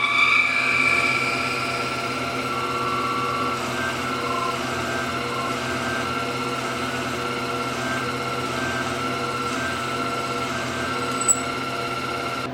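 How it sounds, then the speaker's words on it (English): A lathe runs with a steady hum and whine as a drill bit bores a hole into metal, continuous and moderately quiet, with a brief sharp squeal near the end. "the largest drill bit I can use on the lathe"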